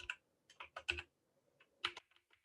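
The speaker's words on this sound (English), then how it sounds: "Hopefully my mechanical keyboard will not reveal my password" Keystrokes on a mechanical keyboard clatter in short irregular bursts, close and crisp, with brief pauses between clusters of presses and no voices.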